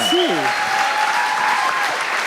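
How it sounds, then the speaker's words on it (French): A comedy show audience on Le Gong Show applauds a comedian in a steady, full round of clapping, with a voice speaking briefly over the first moments. "On peut applaudir Tommy"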